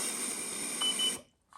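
A single sustained electronic beep from a Sencor SCA BA50FC breathalyzer alcohol tester, holding steady for about a second before cutting off to near silence.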